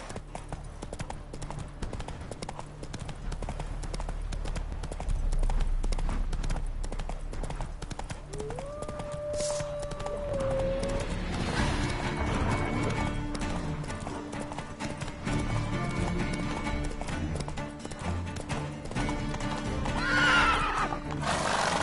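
Roach the horse galloping in a video game, steady rapid hoofbeats clip-clopping throughout with a clear neigh rising midway, plus brief spoken words from the rider.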